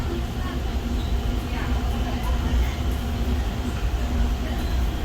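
The Seattle monorail rides along its elevated track as a steady, loud rolling rumble with a low hum, continuous throughout, while a voice talks faintly in the background.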